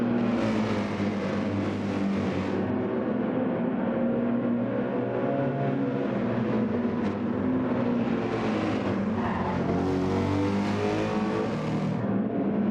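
Race cars in the video game Gran Turismo 7 on the Nürburgring GP circuit give a steady, loud engine roar throughout, with revs rising and falling as the cars pass. There is no speech.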